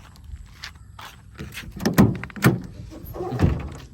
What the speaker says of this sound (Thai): ประตูท้ายนะครับ